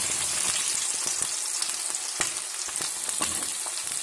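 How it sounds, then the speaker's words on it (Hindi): Onion sizzling in hot oil with browned cumin seeds for a capsicum curry, a steady close hiss broken by scattered crackles and stirring clicks, no voices. "प्याज को बिल्कुल अच्छे से फ्राई करना है 1 से 2 मिनट तक"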